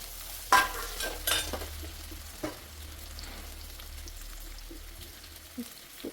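Sliced onions and shallots sautéing in a pan with salt, giving a soft, steady sizzle with a few louder stirring scrapes and clinks near the start, close and fairly quiet, no talking.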